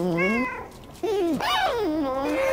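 A cat meows in the video game Stray, a few drawn-out, rising and falling meows close up and fairly loud, with a short pause between them over a faint game background.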